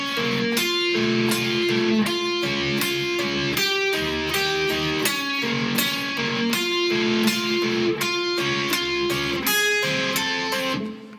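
Electric guitar in standard tuning plays the intro of a song from Call of Duty Black Ops Zombies: a steady, full-sounding riff with repeated chord stabs and picked notes, loud and continuous throughout, no voices.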